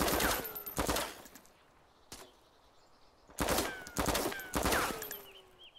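Bursts of rapid automatic rifle fire in the game DayZ, three or four loud volleys separated by short pauses, with a lone shot in between and ambient bird chirps in the quiet gaps.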